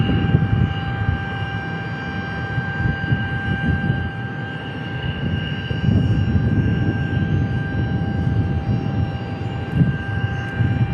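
An Air National Guard F-16 jet taxis at Tucson International Airport, a steady, loud engine roar and whine holding constant throughout, heard from a moderate distance with no speech.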